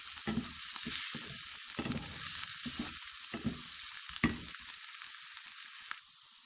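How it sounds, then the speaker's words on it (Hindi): Food frying in a pan gives a steady sizzle, broken by repeated stirring scrapes and clatters that come and go in uneven bursts, heard close and without any voices. "थोड़ी देर के लिए हम उसको भूनेंगे।"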